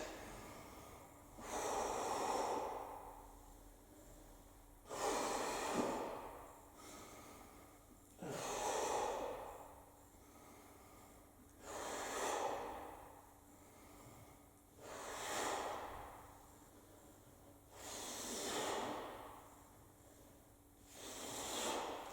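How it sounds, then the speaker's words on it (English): Heavy rhythmic breathing during an ab conditioning exercise, seven strong hissing exhales spaced about every two and a half seconds, close and loud with no talking. "Breathe out as you come up."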